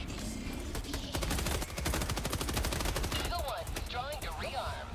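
Video game gunfire, dense rapid automatic bursts rattling continuously at moderate level with other game effects mixed in.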